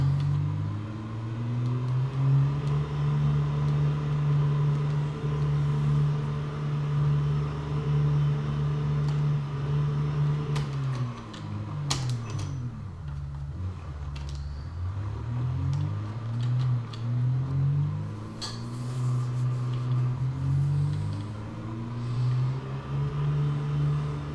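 In the video game Project Zomboid, a car tows a white car along a highway; its engine hums steadily, then drops and revs back up midway in a series of pitch swells before settling into a steady drone.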